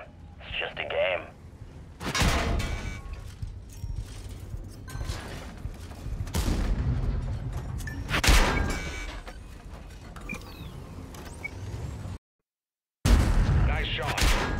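Tank cannon fire in World of Tanks Steel Hunter rings out in several heavy booms among engine rumble and mechanical clanks, with a brief silent gap near the end.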